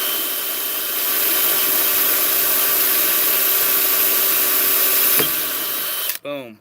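A power drill bores through metal on a Super Dump truck while fitting a grease fitting, a loud steady whine running for about five seconds before stopping abruptly, followed by a brief voice.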